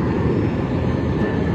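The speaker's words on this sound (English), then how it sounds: "Big airplane." A big airplane at an airport gives off a steady, loud, broadband roar of jet engine noise that holds constant throughout, with no talk.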